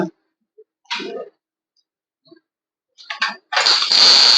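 An electric drill bores holes into a metal pipe leg for a bird cage stand: two short whirring bursts separated by silence, then a loud, sustained high-pitched grind.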